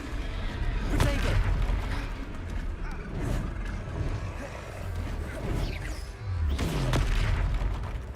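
Confringo blasting spells explode in Hogwarts Legacy as deep, rumbling booms, with a strong blast near the start and another toward the end over dense game-fight noise, alongside a voice calling out spells.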